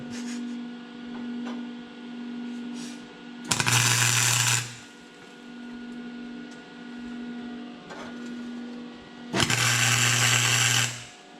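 Welding on a rear differential mount comes through as two separate bursts of harsh buzzing crackle, each about a second long, over a steady low electrical hum in a quiet shop.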